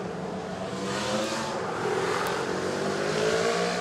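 Rally cars, including a Martini-liveried Lancia Delta S4, run a tricky forest stage at the Goodwood Festival of Speed, with a steady engine roar that swells and holds at close range throughout.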